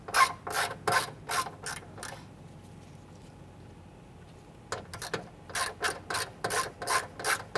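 A ratchet clicks in quick bursts, removing a 7/32 screw from the rear door of a 1995–2001 Ford Explorer. The crisp close clatter pauses for about two seconds, then resumes.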